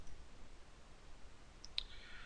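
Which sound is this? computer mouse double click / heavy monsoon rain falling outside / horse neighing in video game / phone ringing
computer mouse double click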